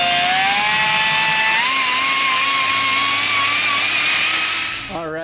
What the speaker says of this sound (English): I'm gonna take my die grinder here and I'm gonna just hog out some of this material